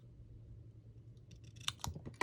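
Scissors snip through paper for a crafted journal page with postage-stamp decorations. After a quiet stretch, a few quick, crisp snips come close together near the end, faint but clear, with no voices.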